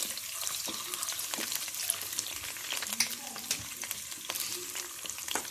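Chicken pieces for Korean honey chicken sizzle and fry in a pan while a utensil stirs them, scraping and clinking in an irregular rhythm over steady close-up crackle.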